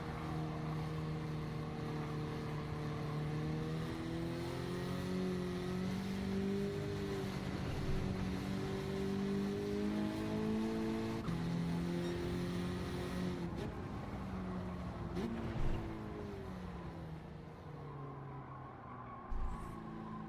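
A race car in the video game Gran Turismo 7 drives around corners, its engine note rising and falling through shifts, loud and continuous, with a brief thump near the end.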